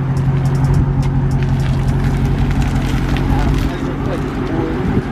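A Mopar car engine rumbles and revs up close, loud and continuous, with someone talking over it.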